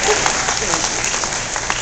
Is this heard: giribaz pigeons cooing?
no